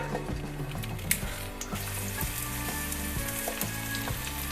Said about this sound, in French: Dans une poêle avec un peu d'huile, on va faire revenir nos oignons et nos lardons.